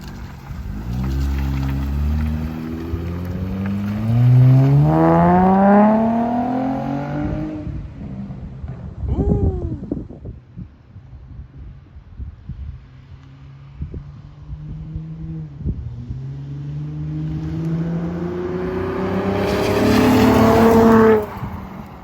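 An Acura RL with an RV6 J-pipe exhaust accelerates on the road through rising gear pulls, eases off, then revs up again; the engine is deep and loud, with shifts and whooshing road noise.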